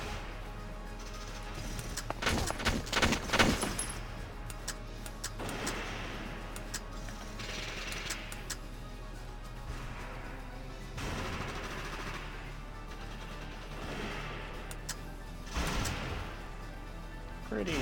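Gunfire in the video game Valkyria Chronicles, bursts of rapid shots and single cracks scattered over a low steady hum, with pauses between volleys.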